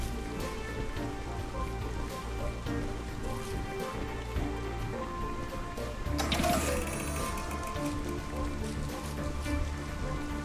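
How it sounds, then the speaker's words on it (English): Steady rain patters in a survival base-building game world, a dense continuous hiss that swells louder partway through, with no talking over it. "And it started raining again."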